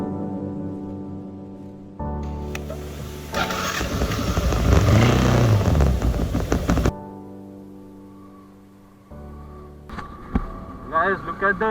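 A Bajaj Avenger 220cc motorcycle engine starts up and runs loud and close, its steady rumble and revs dominating the middle of the clip before cutting back to a quieter idle, with a few sharp knocks near the end.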